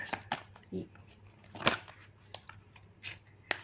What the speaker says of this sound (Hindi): मैं आपके लिए कार्ड शफल करती हूँ